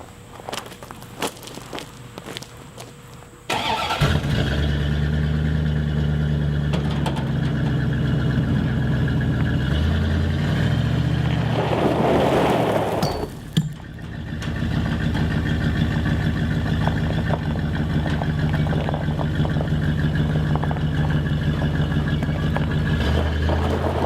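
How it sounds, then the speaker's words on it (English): A pickup truck with bald rear tires, aired down on one side, starts up and runs with a steady mid-pitched engine drone, close and loud, rising briefly as it pulls and strains before settling back to a steady run. "I brought out the truck, and this is good because it's got bald tires on the rear"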